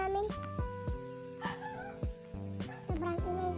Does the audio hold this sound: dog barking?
yes